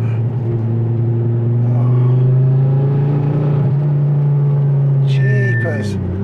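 Ford Focus ST accelerating hard along a bendy road, its engine note climbing in a steady droning pull from inside the car, easing off near the end as a voice cuts in.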